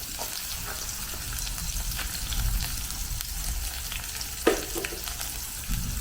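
Onion, garlic, ginger and chili frying in a pan over a medium flame, a steady close crackling sizzle with occasional spoon scrapes and one sharper clink.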